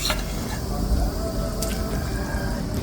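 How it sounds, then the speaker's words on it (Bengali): Tilapia pieces are stirred and cooked over high heat in spicy gravy with hot water, giving steady bubbling and sizzling with occasional stirring noises, and a voice is faintly present. "মাছটা দেওয়ার পরে খুব সুন্দর করে নেড়ে ছেড়ে এই যে রান্না করে নিচ্ছি"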